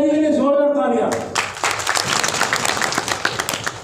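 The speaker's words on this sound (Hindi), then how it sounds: "मोनिका जी के लिए जोरदार तालियां" Audience applause at a healthcare oil training session for a participant named Monika, beginning after a voice speaks and building into scattered, fairly close clapping that continues to the end.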